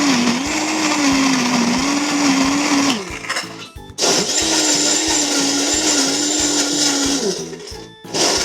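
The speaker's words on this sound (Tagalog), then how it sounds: "Subukan na natin yung ating blender." A loud blender crushing ice and milk roars continuously, grinding with a steady whine, briefly dipping around the middle before surging again; no talking.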